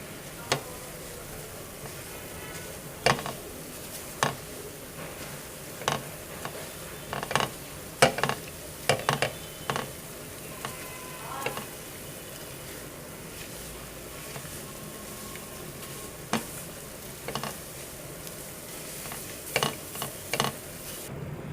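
Semolina roasting in a pan over low heat for halwa, a spoon stirring and scraping with scattered clinks against the metal and a faint sizzle underneath, steady and close.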